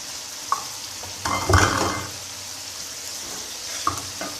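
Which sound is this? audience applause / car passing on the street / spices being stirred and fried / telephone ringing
spices being stirred and fried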